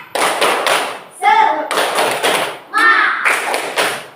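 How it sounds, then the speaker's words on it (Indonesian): Classroom group doing a rhythmic spirit clap, bursts of claps and thumps in sets separated by brief chanted voices, loud and close. "coba tepuk semangat"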